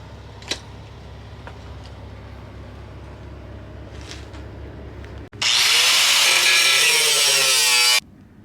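An angle grinder with a cutting disc bites into a Miata frame, a loud, harsh, high-pitched shriek lasting a few seconds close by, after quieter shop background noise and light tapping.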